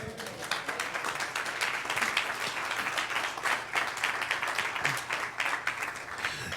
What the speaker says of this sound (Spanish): yo le diera un aplauso al Señor